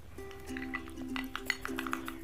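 A spoon stirs a thick face pack paste in a bowl, giving light clinking and scraping taps against the dish in an uneven rhythm, close and fairly quiet.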